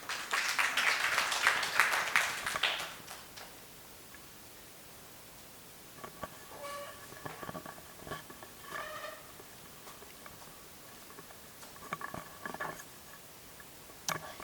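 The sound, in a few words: audience applause after a presentation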